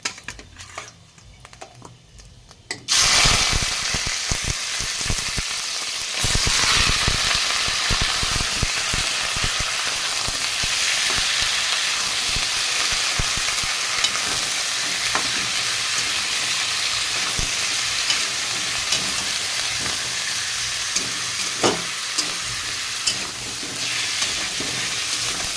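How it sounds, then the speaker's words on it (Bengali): Chicken pieces fry with kadai masala in a pan: after a quiet start, a loud, continuous sizzle bursts in and keeps crackling, broken by occasional stirring and scraping clinks of utensil against metal, with no one speaking. "চিকেনটা একটু ভাজা ভাজা করে নেব।"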